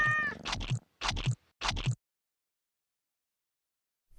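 A cat meows several times in quick succession, close and clear, each call short and separate, then silence follows with nothing else heard.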